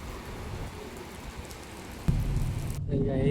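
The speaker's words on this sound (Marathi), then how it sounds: "आता इथं पाऊस वाढलाय वापस" Heavy rain pours steadily, a soft broadband wash that grows louder and denser partway through, with a low rumbling undertone.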